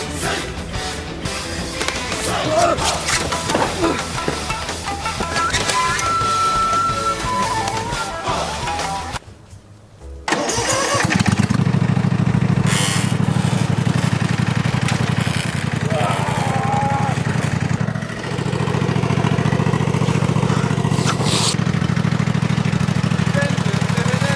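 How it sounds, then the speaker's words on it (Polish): A small engine sputters, cuts out briefly, then catches and settles into a steady, loud droning idle like a lawn mower, close by. "Widzę typa z kosiarką"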